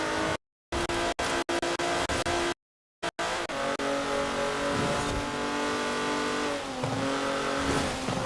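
A race car engine revs and roars steadily through a Forza Horizon sprint race in the video game, loud and continuous with shifting pitch, after a few brief dropouts at the start.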